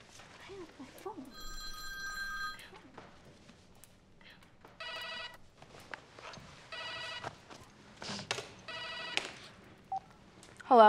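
A telephone rings in several short repeated bursts, interspersed with footsteps and quiet room sounds, fairly faint overall.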